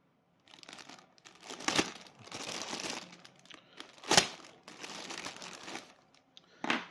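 Plastic packaging of a Fine Molds model kit crinkles and tears open in several bursts, with a few sharper crackles, close and fairly quiet, no voices.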